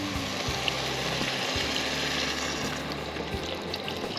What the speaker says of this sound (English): we're gonna throw in some just beef broth. Let this come to a